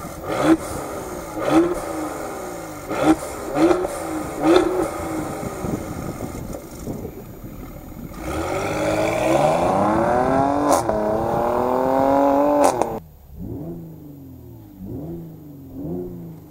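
Mercedes GLE 43 AMG Coupe engine blipped in sharp repeated revs, then a long sustained climb and release, followed by crackling pops from the active exhaust as the throttle lifts, loud and close.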